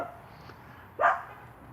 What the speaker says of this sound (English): She doesn't even know what she's barking at.